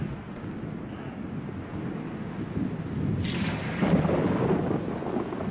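Thunder rolls through a storm at sea in an audio drama, a low rumble that swells midway into a louder, sustained crackling roar with no talking over it.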